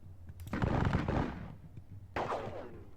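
Volley of musket fire from units in a Napoleonic wargame: a loud crackling burst of shots for about a second, then a second, slightly softer ragged volley, with no talk.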